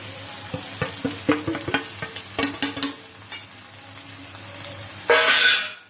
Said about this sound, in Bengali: দেখুন এরকমভাবে ভালো করে কষিয়ে নিচ্ছি